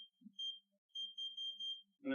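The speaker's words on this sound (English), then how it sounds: "When it makes a connection, it beeps." A car battery bypass gives a series of short, clean electronic beeps, four or five high steady tones in a quiet garage, followed by a brief rustle at the end.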